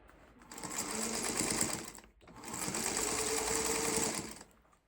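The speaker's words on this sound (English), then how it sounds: "It's really not a video without the sound of the sewing machine in the background." A sewing machine stitches in two continuous runs with a short pause between, its fast mechanical whir ramping up and winding down each time.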